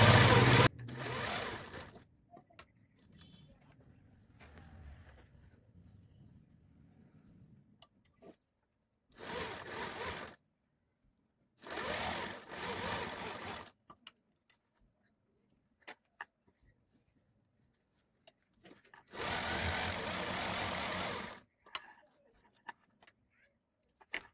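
A sewing machine stitches a lined kameez in four loud, close bursts of rapid whirring. Quieter gaps between the bursts carry faint handling noise and soft speech.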